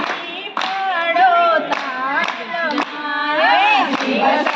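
At a Janki Bhajan Mandal gathering in Surat, worshippers clap steadily in time with a devotional bhajan, regular hand claps under loud singing voices through the whole stretch.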